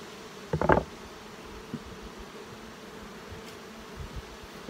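Honey bees hum around a hive frame as it is shaken clear, with a faint steady drone, one brief louder buzzing burst near the start and a few scattered lighter buzzes afterward.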